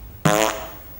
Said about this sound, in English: This drum up here sounds like this on program 1.